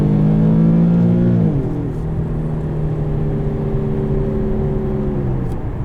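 A 2016 Infiniti Q70's 3.7-litre VQ V6 engine revs up and then holds a steady high whine, loud and close, with no voices.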